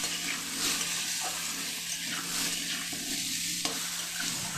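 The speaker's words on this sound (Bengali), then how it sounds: "দিচ্ছি একটু হলুদ, লবণ দিয়ে হালকা একটু ভেজে নিয়ে" Potatoes frying in a pan with turmeric and salt, a steady sizzle with a low hum underneath and occasional stirring scrapes, close and continuous.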